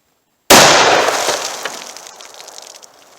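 A .357 Magnum Federal HYDRA-SHOK round fired through denim into water jugs: a single sharp, loud blast after a brief silence, followed by a decaying splash and echo tail.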